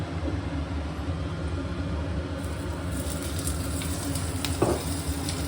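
Peeled garlic cloves and green chilies frying in a little oil give a steady, soft sizzle throughout, with light stirring scrapes near the end.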